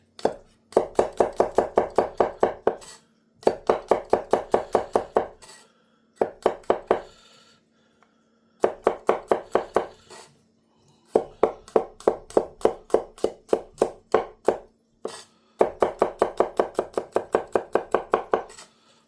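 Garlic is chopped with a knife on a cutting board, rapid rhythmic taps in five bursts with short pauses between, close and crisp, with no one talking.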